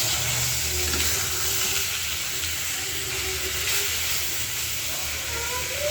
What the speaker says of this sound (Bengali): তো এই পাশে মাছের মাথাগুলো ভাইজে নিতেছি।